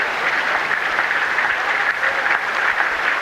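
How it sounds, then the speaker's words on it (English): Warm, steady applause from the crowd for English weightlifter Mark Thomas in the 110 kg class at the 1990 Commonwealth Games, even and continuous throughout. "Warm applause for this supremely well-built athlete, Mark Thomas from England."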